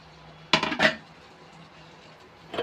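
Paneer added to a pan of cooked-down potatoes, two quick bursts of clattering metal as the spatula knocks the pan, then quiet, with another scrape at the very end.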